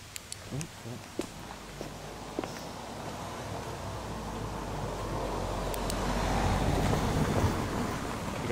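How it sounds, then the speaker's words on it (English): A car passes on a nearby road at night, a broad rumble of tyres and engine swelling gradually out of quiet outdoor ambience and peaking near the end, with a few light footsteps or knocks early on. "Here we are, got a car coming now."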